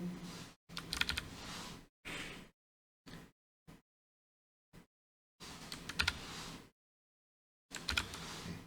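Bursts of computer keyboard typing while form data is entered into a React web page, coming in several runs of quick, close clicking keystrokes separated by silent pauses.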